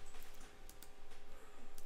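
Keyboard and mouse clicks while selecting panels in Illustrator: a few faint, scattered clicks over a low, steady background hum with no speech.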